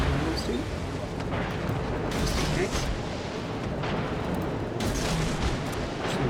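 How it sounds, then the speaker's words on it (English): Torpedo explosions hitting and sinking a ship during a World of Warships naval battle, a dense roar of booms and rumbling blasts running throughout, with bursts around two and five seconds, under game noise. "He's going to die from one of our guys' torpedoes."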